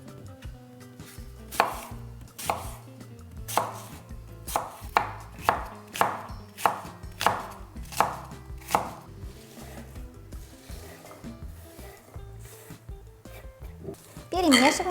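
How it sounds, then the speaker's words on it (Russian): An apple is diced into small cubes with a knife on a cutting board, producing a run of about ten sharp, evenly spaced chops that taper off, with a rustle at the end. "Берем одно яблоко и нарезаем его на мелкие кубики."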